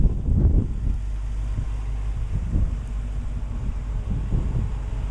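Wind buffets an outdoor microphone beside a parked car, a constant low roar broken by several heavier gusts that thump and swell, with no voices.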